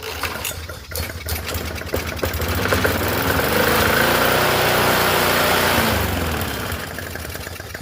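A free Murray 4.5hp push mower engine, smoking from oil in the muffler and prone to over-revving, runs close up, climbing to a high rev, holding it and then dropping back to a rattling run.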